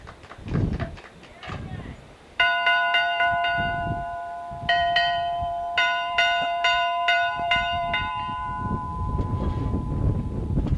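An old, worn bell in hot weather rings in several bright, ringing strikes with long decaying tones, close and loud, while people talk around it.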